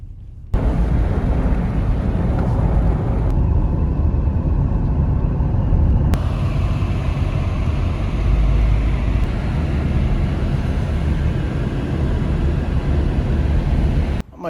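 A car on a road through the Smoky Mountains of Tennessee, heard from inside as a continuous low engine and road rumble that holds steady for about fourteen seconds, with no talking.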